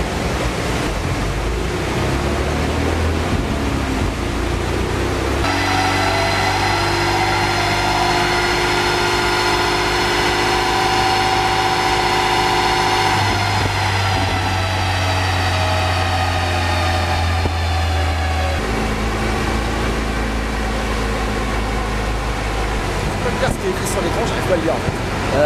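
A Renault Mégane 3 RS engine runs on a dynamometer under a broad background roar. It holds a steady tone that then shifts in pitch and settles at a stable speed, while someone talks intermittently.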